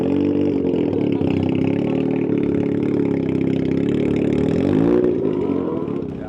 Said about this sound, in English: All the RX-7 sound super loud here.